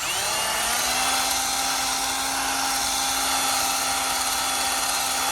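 A sanding cartridge roll grinds inside the port of an LSA supercharger, giving a continuous high-pitched power-tool whine with a steady underlying tone that holds unbroken for several seconds, with no voices.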